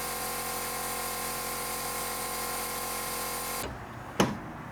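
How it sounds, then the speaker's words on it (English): A vacuum bleeder kit pulling clutch fluid on a Honda Beat makes a steady mechanical whir for nearly four seconds, then stops, followed by a single sharp click. "I picked up this vacuum bleeder kit so I can do it all by myself"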